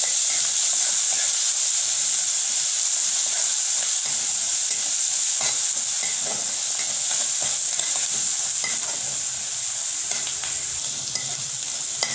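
Onion sautéing with a paste of garlic, ginger, green chili and coriander, sizzling steadily with a broad, even hiss and occasional stirring scrapes throughout, close and fairly loud, with no voices.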